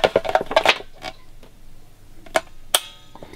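An Ethernet cable plug is pushed into a port at close range, giving a cluster of quick plastic clicks and rattles followed by a few separate sharp snaps in otherwise quiet surroundings.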